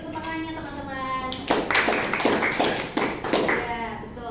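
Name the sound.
classroom applause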